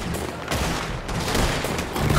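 Rapid repeater rifle gunfire in Red Dead Redemption 2, a dense string of sharp, loud shots fired in quick succession with no pauses, filling the whole moment.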